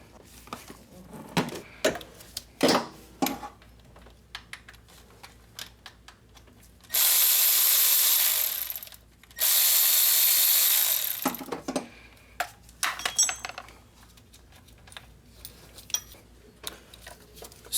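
On a Honda 3.5L V6 engine, a tool works loose the idler pulley bolt in a series of close, sharp mechanical clicks, then two long loud bursts of whirring from a power tool, with a voice speaking briefly.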